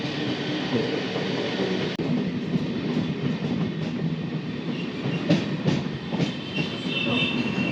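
Inside a nearly empty Kolkata local train running between stations, a steady loud rumble and rattle of the carriage with rhythmic clickety-clack from the wheels, a sharp jolt near the start and faint metallic squeals later.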